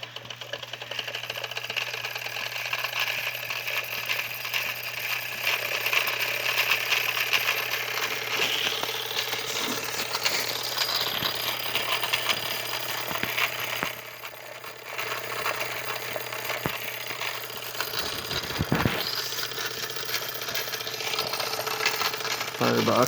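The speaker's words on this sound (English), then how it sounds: "here is how to take it in gear and out of gear" Old cement mixer with its engine running, a steady mechanical rattle and chug close by while it is taken in and out of gear, with someone talking over it.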